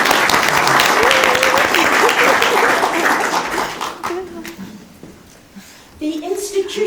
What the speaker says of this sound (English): I think a round of applause is called.